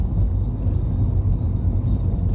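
Driving in a car with a 1600 HDi diesel engine, heard as a low, steady rumble with road noise and a faint whir, continuous and close from inside the cabin, with no talking.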